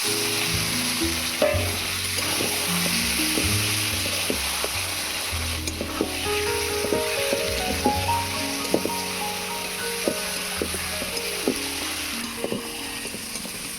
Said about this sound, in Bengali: এবারে দিয়ে দিচ্ছি ম্যারিনেট করা চিকেন